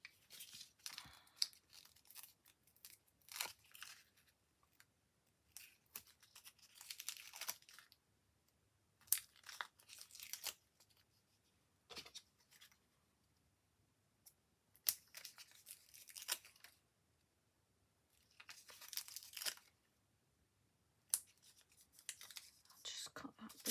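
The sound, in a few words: scissors cutting paper for card making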